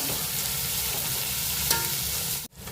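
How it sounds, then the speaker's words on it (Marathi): Half a kilo of chopped onions sizzle and fry steadily in hot oil for an egg biryani, a dense continuous crackle with stirring, close and fairly loud, ending in a sudden brief drop near the end. "आणि ते आपण त्या तेलामध्ये मस्त परतून घेऊ कलर बदलतपर्यंत."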